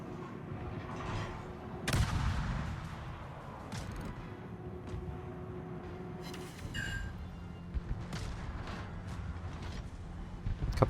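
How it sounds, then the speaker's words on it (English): Naval ship guns firing in the World of Warships video game, a heavy booming salvo early on followed by more distant rumbling shots and mechanical clanks over a low engine drone. "I like the gun sound, though. Pretty neat gun sound."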